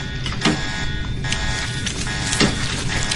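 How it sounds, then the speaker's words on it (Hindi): Electronic alarms go off aboard a ship in the Transformers Animated cartoon as robots wake from stasis: steady, piercing tones with intermittent bursts and mechanical clatter, with no voices. "और ये अलार्म क्यों बज रहे हैं?"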